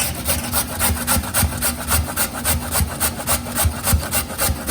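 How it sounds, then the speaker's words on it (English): Potato grated by hand into soaked moong dal, a rapid rhythmic scraping rasp of steady back-and-forth strokes, close and fairly loud, with no talking. "So you have to grate the potato in the moong dal."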